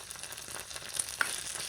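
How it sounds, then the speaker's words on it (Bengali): Spices fry in a pan for egg biryani, a faint hissing sizzle with a couple of light stirring clinks over a brief moment. "মশলার গুঁড়ো দিয়ে আমি আবার সুন্দরভাবে নেড়ে নিব।"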